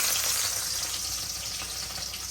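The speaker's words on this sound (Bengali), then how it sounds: "তো শুকনো মরিচের সাথে দিয়ে দিব রসুন কুচি গরম দিলাম" Chopped garlic added to dried chillies frying in hot oil gives a steady, close, bright sizzle that holds evenly throughout with no talking.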